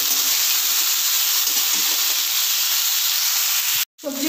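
Vegetables fry in a pan with a steady, loud hiss and sizzle that holds evenly, then cuts off abruptly near the end.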